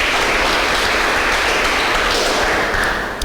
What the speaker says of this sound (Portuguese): Você pode aplaudir a Deus aí para essa equipe maravilhosa, irmão? Mas aplaude com vontade aí